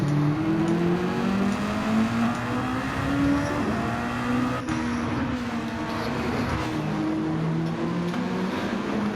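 Race car engine at Tsukuba circuit, loud and steady, with rising and falling revs as the car pulls through the turns during a junior race.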